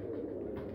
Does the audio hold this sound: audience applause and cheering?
no